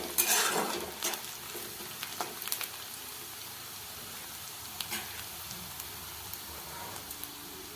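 Onion sautéing in a pan for poha, a louder stirring scrape and crackle at the start settling into a faint steady sizzle with occasional spoon clicks, no speech.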